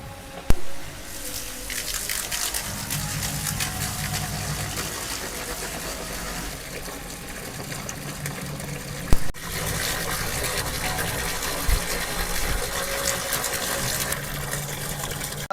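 A 12x48 water filter vessel being backwashed sends water rushing out with strong force, a loud continuous gushing roar with a sharp knock near the start and another midway, no voices.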